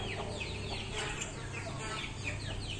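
Chickens cluck softly and steadily at close range among a farm flock, including a hen whose crop has been stuck for three days, with no talk over them.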